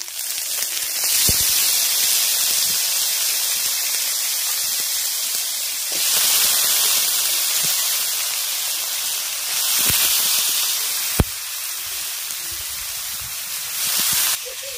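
Chopped banana stem, potato and eggplant frying in oil with spices and turmeric, a loud, close hiss that swells in several long waves, with a few sharp clicks between them.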